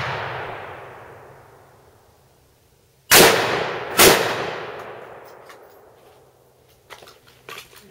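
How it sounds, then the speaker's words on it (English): A Ruger Mini 14 rifle fires two loud, close shots about a second apart at a bowling pin outdoors on a range, each followed by a long fading echo, then faint distant pops. "I'll just go ahead and shoot at that other bowling pin."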